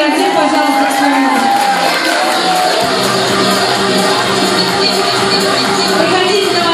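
Children at a summer camp clap and cheer for a team during a two-ships game, a steady, dense crowd roar with whoops and shouts that carries on loudly throughout.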